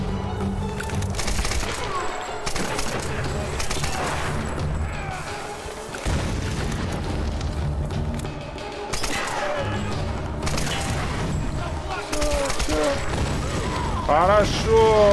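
Enemies blowing up in the Tomb Raider video game: a dense, continuous barrage of loud booming blasts and sharp cracks layered over busy in-game combat noise, with heavier impacts near the end.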